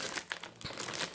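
A parcel's plastic packaging crinkles and rustles as it is opened, a short burst of quiet, close crackling handled by hand.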